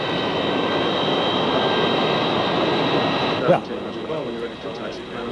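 An airliner takes off at San Francisco International, its engines giving a loud, steady roar that swells and then falls away abruptly near the end, with voices talking over it.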